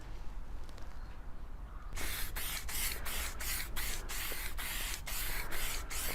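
Spray paint applied over a scuff on a car body as a second coat, a quiet pause giving way to a series of close hissing aerosol bursts, roughly ten short sprays in a regular rhythm.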